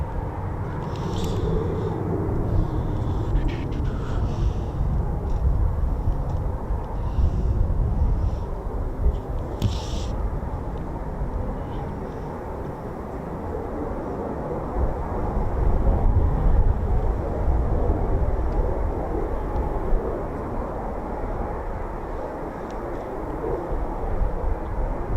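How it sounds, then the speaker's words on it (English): A Eurofighter Typhoon jet landing at RAF Coningsby, heard as a steady, broad low engine roar that swells and eases gently over about twenty-five seconds, with wind buffeting the microphone. "Typhoon 325 will be landing."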